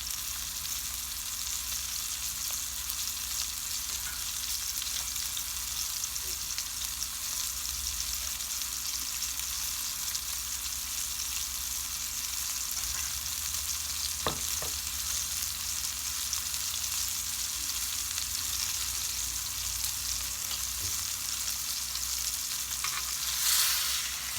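A pot roast sears in a hot pan for oven pot roast, giving a steady, loud broadband sizzle that holds evenly throughout, with a few faint utensil clicks and no talking.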